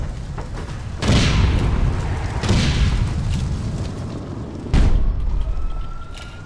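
A shotgun in the online shooter APB: Reloaded fires three loud, booming blasts, spaced a second or two apart, each a sharp boom that decays into a rumbling tail over a low background.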